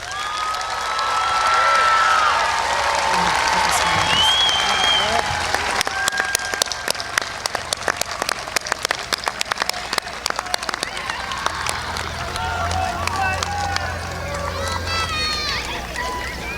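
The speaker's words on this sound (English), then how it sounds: "Let's give our graduates another round of applause." A high school graduation audience applauds, a dense, sustained wash of clapping that swells and thins across the hall, with scattered cheers and some indistinct voices mixed in.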